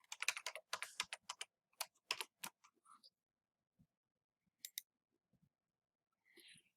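Rapid keystrokes on a computer keyboard enter a password, a quick run of close, crisp clicks followed by a few scattered, isolated taps in an otherwise quiet room.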